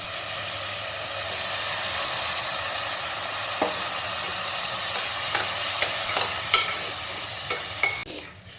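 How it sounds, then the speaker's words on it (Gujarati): Washed khichdi of rice and lentils lands in a hot oil tempering with fenugreek, raising a loud, steady sizzle, then a few spoon clinks and scrapes as it is stirred toward the end. "ખીચડીને મેં 2 થી 3 પાણી વડે ધોઈ લીધી હતી અને હવે ખીચડી એડ કરવાની છે"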